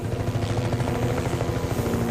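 A helicopter's steady, loud rotor thudding and engine whine fill the clip continuously, close by.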